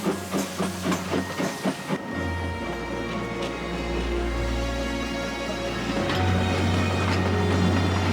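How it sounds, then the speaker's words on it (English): Period steam locomotive on the Isle of Wight Railway hauling an 1864 carriage, a steady hiss and low rumble building as it approaches, with brief rhythmic chuffs at the start, alone and fairly loud. "she'll be pulled by a steam loco from the same era"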